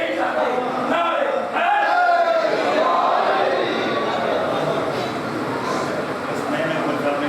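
A crowd at a Shia majlis in an imambargah in Sargodha shouting religious slogans together, a loud mass of voices rising and swelling in unison and holding steady.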